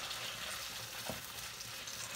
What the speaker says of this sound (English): the tuna, guys, I drained it already now. So, lots of tuna. And then, guys, just saute all of this.